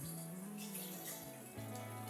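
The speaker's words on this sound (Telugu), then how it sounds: "వాటర్ వేసేస్తున్నాను" Water pours steadily from a glass into a pot of fried rice for Bagara rice, a continuous close gurgling stream with the pitch shifting as the level rises, no talking.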